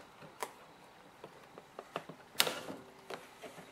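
A lever on a lawnmower carburetor is pried off with a small flat screwdriver, producing a series of small close clicks and ticks, with one sharper snap near the middle.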